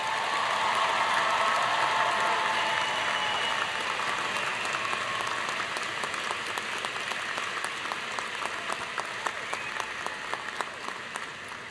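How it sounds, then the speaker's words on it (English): Applause for graduates fills a large university commencement hall, loud and dense at first, then slowly thinning over nearly twelve seconds until individual claps stand out. "how about one more round of applause for all of our graduates?"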